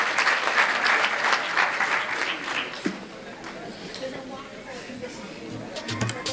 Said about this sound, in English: another round of applause for these brave young people